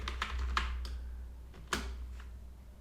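Bursts of keystrokes on a computer keyboard while writing in a text editor, several quick close taps followed by a pause and another short cluster, fairly quiet and alone.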